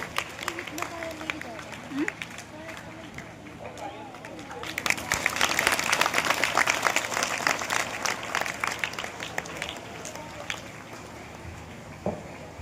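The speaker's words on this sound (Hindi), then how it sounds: "तब तक आप लोग तालियों का ध्वनि निकालते रहे" Audience applause at a Teacher's Day school event, a dense patter of many hands clapping that swells to a peak midway and then thins out, with a voice speaking faintly underneath.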